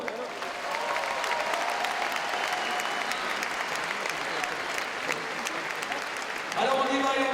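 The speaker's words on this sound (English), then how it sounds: "Applaudissements pour Monsieur François Legrand." An arena audience at the 2012 IFSC Climbing World Championships in Paris breaks into broad, sustained applause for François Legrand, with crowd noise behind it and a voice speaking over the clapping near the end.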